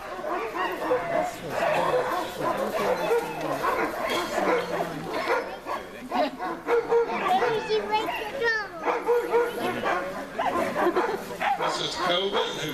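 Sled dogs at a dog sled demonstration in Denali National Park, barking, yipping and whining in an excited chorus, with a person talking over the noise throughout.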